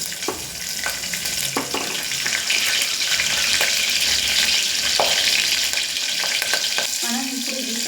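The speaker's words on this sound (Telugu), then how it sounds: "ఇప్పుడు మొదటిగా పచ్చిమిరపకాయలు వేసుకుంటున్నాను. బాగా చిప్పట్లు ఆడుతుందండి." Green chilies hit hot oil in a pan while cooking chicken curry, a steady loud sizzle and spluttering with sharp pops and crackles scattered throughout, close up and with no talk.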